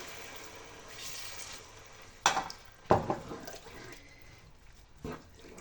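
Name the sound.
pouring water into a pan of potato, pointed gourd and carrot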